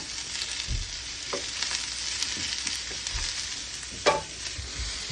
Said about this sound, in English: So just saute until the vegetables are starting to get soft.